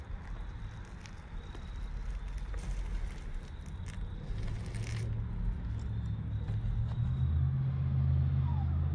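A driverless Tesla Model 3 creeps slowly toward the listener during Smart Summon in a parking lot, a soft hum of tires and motor growing gradually louder and nearer, with faint clicks.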